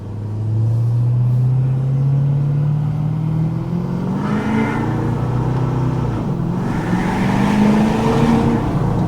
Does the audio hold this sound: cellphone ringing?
no